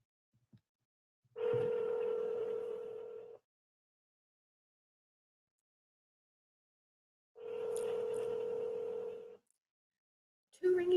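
Ringback tone of an outgoing telephone call, two long buzzing rings about six seconds apart with silence between, faint and alone.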